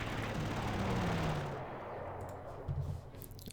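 Aircraft strafing ships in the war game Panzer Corps, heard as a loud rolling burst of rapid machine-gun fire that fades into a few scattered shots and rumbling impacts.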